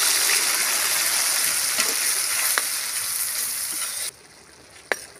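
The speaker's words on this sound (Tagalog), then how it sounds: "Ibubuhos natin yung ating manggo." Mung beans are poured into a pan of sizzling sautéed onions and garlic, giving a loud, steady frying hiss that suddenly drops quieter near the end, followed by a single sharp clink.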